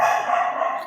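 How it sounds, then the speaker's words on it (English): Dogs barking indoors behind a speaker, a sustained, steady-toned yelping or howling burst lasting under a second, moderately loud. "sorry about the dogs"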